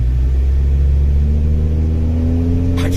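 A Chevrolet Suburban or lifted high-top Ford Econoline van engine rumbles loud and steady during a test drive, a deep continuous drone with the pitch slowly rising as it accelerates, heard from inside.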